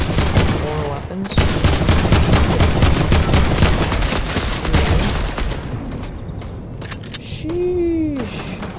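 Loud, rapid bursts of gunfire from players battling in Fortnite, dense automatic shots clustered together, then thinning out into scattered single shots, with some game effect sounds near the end.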